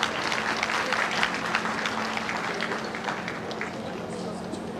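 Audience applause welcoming guest Shri Ram Chauhan at a public event on the PM Vishwakarma scheme, a steady wash of many hands clapping throughout, with a low hum and some voices mixed in.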